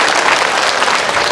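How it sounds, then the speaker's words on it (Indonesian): Audience at an Isra Mi'raj religious gathering in Rokan Hulu claps loudly in a dense, continuous burst of applause. "Tepuk tangan dulu buat Kabupaten Rohul."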